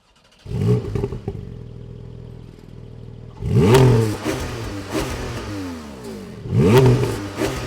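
2021 Porsche 718 GT4 with a 4-litre engine and PDK gearbox on a tight handling course, revving hard in repeated loud surges with gear changes between them, recorded up close; no talking.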